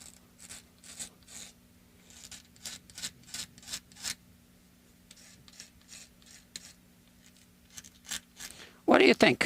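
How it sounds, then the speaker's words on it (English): Scraping at the old finish on a guitar body, a series of short, bright rasping strokes in quick bursts, fairly close, with a hum underneath and a louder clatter at the very end. "do you mind if I try scraping it a little bit with this?"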